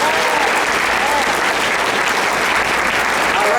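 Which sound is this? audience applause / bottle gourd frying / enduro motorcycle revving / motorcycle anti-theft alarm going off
audience applause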